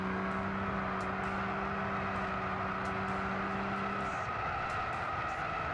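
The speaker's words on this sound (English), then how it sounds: "Squawking tires like crazy." Race car tires squeal through a corner in Gran Turismo 6 on PS3 driven with a racing wheel, a sustained screech over the engine drone that drops away partway through, leaving steady motor noise.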